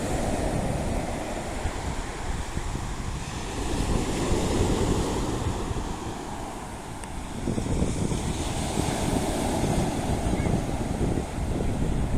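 Ocean waves wash continuously onto a beach at Sichon in Nakhon Si Thammarat, Thailand, a loud steady surf roar with gusts of wind buffeting the microphone.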